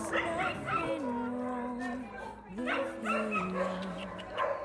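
Several dogs in a crowded public shelter whine and whimper in long, rising and falling tones, with sharp yips and short barks mixed in at close range.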